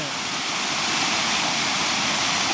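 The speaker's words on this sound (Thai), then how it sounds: "น้ำตกที่มาร่วมกันน้ำตกตะโนดที่ไหลมาจากว่านน้ำพุทมาร่วมกันอยู่ตรงนี้ครับผม" Chanot waterfall pouring into the Nam Som river in Udon Thani, a loud, steady, close rushing roar of falling water with no breaks.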